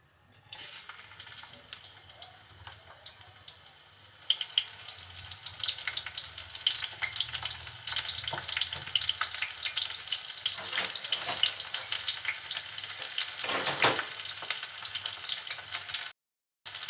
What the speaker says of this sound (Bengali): তেলটা একটু গরম হলে কেটে রাখা পেঁয়াজ আর ঝাল দিয়ে দিচ্ছি।